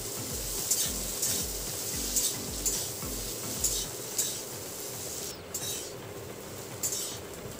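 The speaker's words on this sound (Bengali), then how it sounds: "তেলের মধ্যে এভাবে দিয়ে এখন আমি আলুটা দিয়ে দিচ্ছি। আলুটা এভাবেই ভাজতে থাকবো।" Potato pieces fry in hot oil for Bengali aloo chop, with a steady sizzle under rhythmic scraping and stirring as a metal utensil works against the pan. The pan is close and fairly loud, with no talk.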